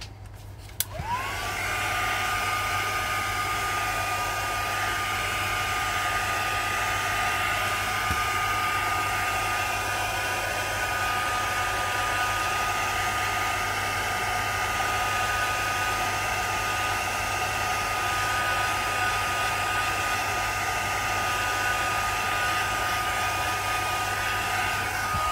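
Hair dryer blowing on a paper craft box, a loud steady close-up roar that runs unbroken for the whole stretch with no talk.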